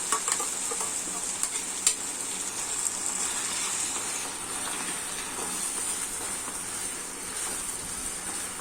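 Chicken stirred with chilli cashew paste in a pan, a steady, close frying sizzle and hiss running throughout, with a few faint scrapes of the utensil near the start.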